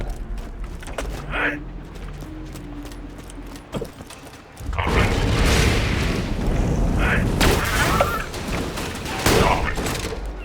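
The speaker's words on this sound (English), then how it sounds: "Doom Guy's shotgun" Doom Guy's shotgun firing in Borderlands 2, heavy booming blasts that start sparse and then turn into a dense, loud barrage of repeated shots with mechanical clatter. Game noise runs underneath.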